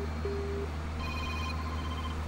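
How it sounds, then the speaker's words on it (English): Default ringtone of a Razer phone chiming through a short electronic melody over a steady low hum from a farming game, a few sustained tones in sequence, moderately loud. "It's the default ringtone for the Razer phone."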